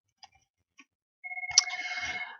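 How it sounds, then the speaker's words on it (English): A phone rings in a room, a few faint clicks first, then a short warbling electronic ringtone pulsing rapidly for about a second before cutting off. "Now, sorry about that phone."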